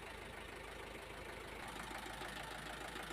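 A medium tour bus with a stalled air conditioner and dead blower idles steadily, its engine a low, even rumble with slight knocking texture, faint and continuous without talk.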